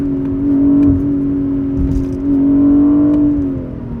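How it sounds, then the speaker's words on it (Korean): A BMW 840i Gran Coupe's engine and exhaust drone steadily while it drives in a sport driving mode, with gentle rises and falls in revs, close and loud, and no talking. "서정적인 엔진 배기 사운드에서 지금 꽤나 과격해지긴 했는데요"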